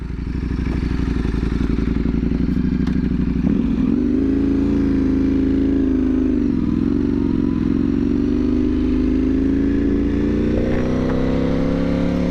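A 2025 Ducati Panigale V4 motorcycle, lowered one inch front and rear, runs with a loud, steady engine drone that holds close and continuous throughout, with slight shifts in pitch as it rides.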